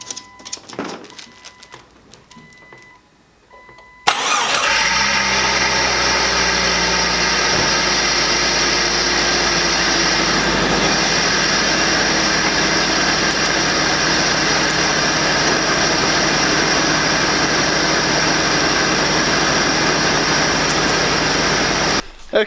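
A Jeep XJ engine is cranked and catches after a few quiet seconds of shop noise, then idles loudly and steadily at close range for the rest of the time.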